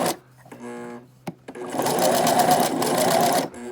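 A sewing machine runs in a steady rapid stitching burst while sewing a simple homemade fabric face mask, close and loud after a short start-stop at the beginning.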